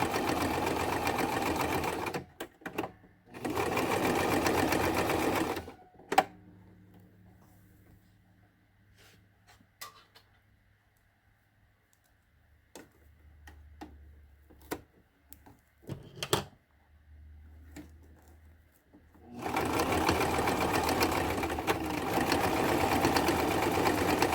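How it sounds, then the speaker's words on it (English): A sewing machine stitches over a wig cap in loud, steady bursts, running briefly at the start, pausing through a quiet stretch with scattered small clicks and handling noises, then running again for a long continuous stretch at the end. "we're going to sew right over that, and that's going to reinforce what we already stitched."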